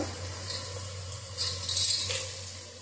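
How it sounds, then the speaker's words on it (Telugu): Whole pulao spices (cardamom, cloves, mace and cinnamon) hit onions frying in a pan for beef biryani, giving a soft steady sizzle that swells briefly near the end over a low background hum. "ఇప్పుడు పలావ్ దినుసులు అయితే వేస్తున్నాను ఇందులో"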